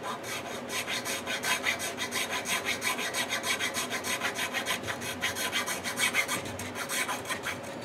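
A file rasps back and forth in a steady, fast rhythm as a nut slot is cut on a hollow-body Telecaster-style guitar with a feeler gauge, close and continuous with no talking.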